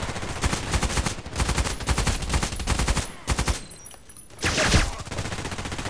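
Pistol shots in a video game ring out in quick repeated volleys, loud and close, with a short lull before another burst near the end.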